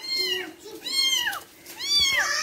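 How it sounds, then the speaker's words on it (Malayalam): An angry cat gives three drawn-out, threatening meows close by, separated by short pauses, over a faint low background. "ഒരു ദേഷ്യം പിടിച്ചിട്ട് സൗണ്ട് ഉണ്ടാക്കി എന്നെ പേടിപ്പിക്കാണ്"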